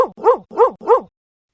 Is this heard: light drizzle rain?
no